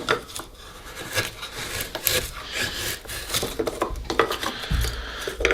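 A knife carefully cutting wood while carving a wing: close, irregular scraping and shaving strokes with small woody clicks and no talk.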